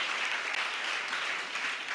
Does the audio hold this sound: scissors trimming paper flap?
no